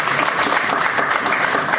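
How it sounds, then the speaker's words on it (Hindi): An audience at a poetry event at Arvind College applauds, steady dense clapping that carries evenly from start to finish with no voices on top. "ये कमजोर तालियां हैं"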